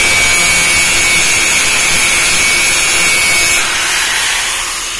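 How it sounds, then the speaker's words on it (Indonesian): A valve lifter shim for a Toyota Kijang 2L diesel engine is filed or ground down, giving a loud, continuous abrasive rasping that holds steady and then eases off slightly near the end. "di sini masih ada jarak yang harus dikikir atau digerinda"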